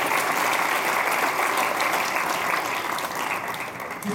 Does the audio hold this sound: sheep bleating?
no